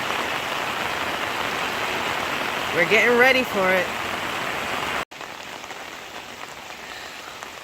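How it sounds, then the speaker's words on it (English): Heavy rain from Hurricane Helene pours down steadily in Atlanta, a dense, constant hiss throughout, with a brief spoken remark near the middle and an abrupt cut partway. "So much rain is falling."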